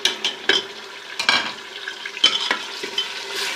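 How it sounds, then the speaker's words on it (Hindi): Onion paste going into a hot cooking pot for chicken salan, stirred with a spoon that scrapes and clanks against the pot in several sharp bursts over a steady frying sizzle, close up with no talking. "दो अदद प्याज का पेस्ट जो है वो मैं इसमें शामिल करने लगी हूँ"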